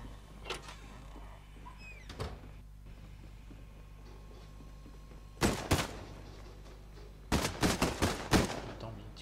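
Gunfire in the video game Fortnite: a few isolated shots early, then two loud clusters of rapid shots later, punchy and close over a low steady background hum.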